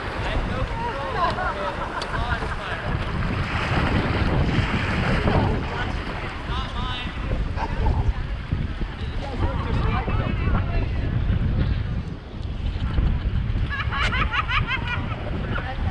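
River water rushing and slapping against a narrow raft on the American River, a constant loud churning wash with wind noise, and people talking under it.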